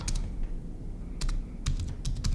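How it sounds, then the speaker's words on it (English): Keys clatter on a computer keyboard in a few short bursts of typing, crisp clicks separated by brief pauses against a low room hum. "Okay, so I'm going to type like this"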